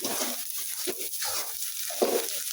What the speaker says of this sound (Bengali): তো পেঁয়াজগুলো আগে আমি ভাজা নিই, ভাজা তুলে নিই